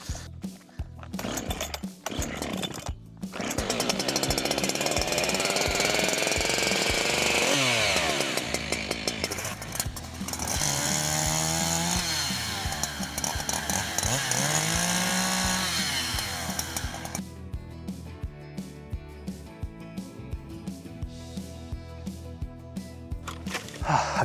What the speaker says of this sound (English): I think I need a chainsaw.